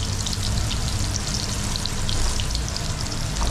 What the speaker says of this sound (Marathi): लसूण आणि टोमॅटो मस्तपैकी तेलामध्ये परतवून घेतले बघा.